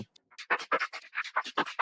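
A Future Garage drum loop is run through the Evoke phase shifter plugin set fully wet, producing a steady rhythm of swirling, hollow-sounding hits that come through loud and close with no talking.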